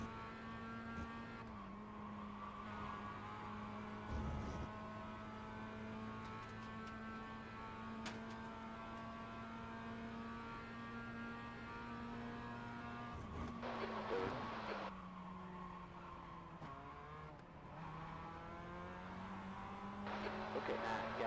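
Race cars in iRacing drone past with steady engine tones, tires squealing intermittently through corners over a continuous mechanical hum, all at a fairly low level.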